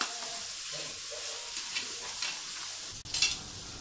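Green chilli and ginger garlic paste sautéing in oil for chicken biryani, a soft close sizzle with a few light stirring scrapes and a sharper clatter near the end.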